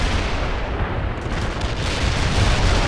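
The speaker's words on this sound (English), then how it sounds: "Artillery firing." Artillery fires in World in Conflict, a dense rumbling barrage of booming blasts that fills the whole stretch loudly and continuously, with no pauses and no talk.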